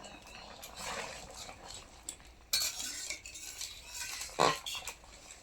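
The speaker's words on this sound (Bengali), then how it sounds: "খুন্তি দিয়ে তো 2-4টে আলু ঘেঁটে দেবো" A metal spatula scrapes and clanks in a pan while stirring and mashing boiled potatoes and papaya for a fish-roe omelette curry, with irregular scraping strokes and a few sharper metallic knocks, close and moderately loud.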